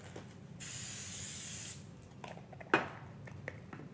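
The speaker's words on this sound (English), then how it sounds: "Let me spray the pan here first." Cooking spray sprayed onto a baking dish in a kitchen, one steady hissing burst lasting about a second, close and fairly loud, followed by a few light clicks and a sharp knock of handling.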